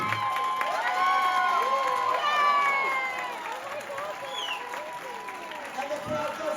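A crowd at the Gumball Rally cheers, whoops and applauds in a loud, lively burst that peaks early and then eases into scattered shouts and clapping.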